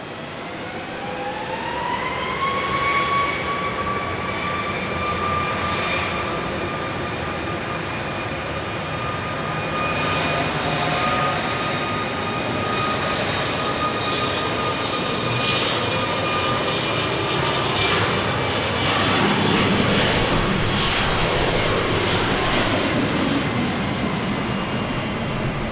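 A passenger airplane departs Dallas Love Field, its engines rising in a loud sustained whine and roar that stays steady and close for the whole span.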